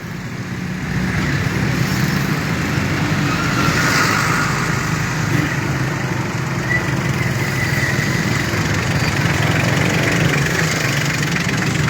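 Large tractors idle in congested city traffic on a main road, a continuous loud engine rumble and chug close by, steady throughout.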